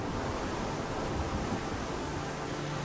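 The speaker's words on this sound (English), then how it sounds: "It's really rough, a lot of waves hitting here." Rough ocean surf off the sandy coast of Mozambique, a steady, dense roar of waves and wind washing over everything without a break, loud and close throughout.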